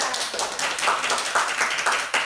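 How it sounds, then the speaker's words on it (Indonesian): Brief clapping in a piano instrument class, a small group striking about five even, rhythmic claps close to one another, with no talking. "kita beri tepuk tangan teman-teman"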